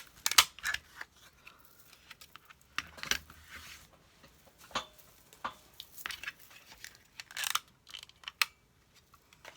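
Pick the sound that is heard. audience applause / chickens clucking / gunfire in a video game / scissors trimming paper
scissors trimming paper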